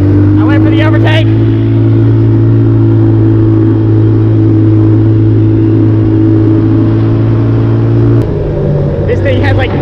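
A 90cc ATV engine racing on a farm trail: a loud, steady droning hum that holds for several seconds, then drops in pitch. Brief voices are heard near the start and end.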